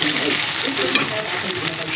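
Ground leaf paste hitting hot oil with fried onions in a pan, a steady bright sizzle and crackle with a few soft stirring scrapes, close and continuous.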